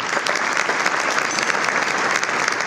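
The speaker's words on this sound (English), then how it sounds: "Please clap for them." An audience at a community leaders breakfast honoring Dr. Martin Luther King Jr. applauds sponsors and volunteers, producing a steady, dense wash of clapping from many hands at moderate volume.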